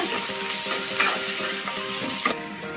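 Puffed rice oggarane with onions is stirred in a pan over high flame, a loud continuous sizzle broken by scraping spoon strokes and small clinks, with no talking.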